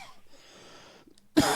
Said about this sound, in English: still trying to get over this cough